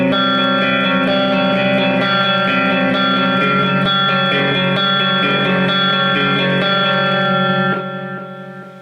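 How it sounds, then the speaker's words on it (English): A sustained, heavily processed electric guitar plays dense chords with a gritty, saturated tone and lush effects, ringing steadily before tapering off near the end. "The music will be played on electric guitars instead of acoustic guitars"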